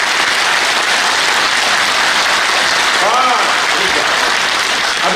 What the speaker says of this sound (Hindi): जितनी जोर से आपको तालियां बजाना आती है उतनी जोरदार तालियां बजाओ